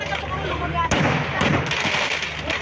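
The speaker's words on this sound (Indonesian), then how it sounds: "Ledakan kembang api hingga petasan dari sebuah rumah sekaligus toko grosir yang terbakar" Rapid crackling pops and sharp bursts of fireworks and firecrackers exploding in a burning house and shop, loud and continuous, with a heavier blast near the one-second mark and voices faintly underneath.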